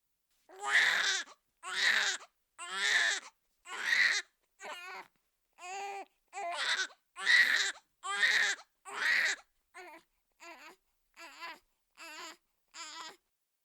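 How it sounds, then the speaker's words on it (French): A baby wails in a long run of short, evenly spaced bursts, about fourteen cries in all. The louder howls alternate with softer whimpering sobs, close and clear against silence, and no one talks. "Étendue sur son lit, son bébé hurlait encore sans raison apparente."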